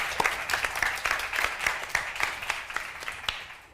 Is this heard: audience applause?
yes